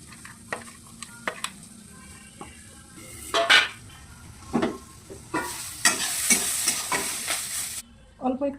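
Hilsa fish pieces in a pan, with scattered clinks of a utensil against metal and a stretch of louder sizzling and stirring toward the end, close by.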